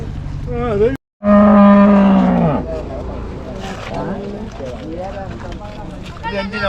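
A dairy cow gives one long, loud moo in the foreground at a cattle sale, with more distant lowing and farmyard murmur continuing afterward.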